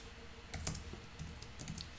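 A computer keyboard is typed on in a few short clustered bursts of clicky keystrokes, close and fairly quiet, with no talking.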